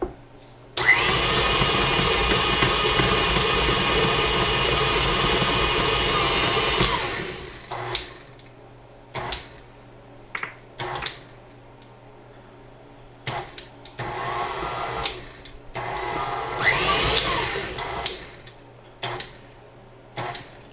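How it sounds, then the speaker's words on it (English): An old electric hand mixer churns jalapeno cornbread stuffing in one steady, loud run of about six seconds. It then stalls and restarts in a series of short, uneven bursts. "my mixer is old and gets stuck sometimes. It turns itself back on."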